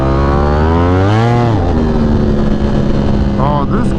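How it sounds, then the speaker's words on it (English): A motorcycle with a slipping clutch revs loudly and steadily, its engine pitch rising and falling over a constant roar, with a voice talking over it. "It sounds like this clutch is slipping"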